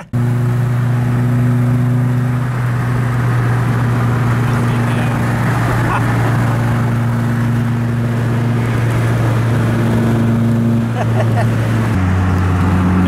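A Caterham race car on a track day at Autodrom Most, its engine droning loud and close with sustained revving and shifting pitch throughout, no talk over it.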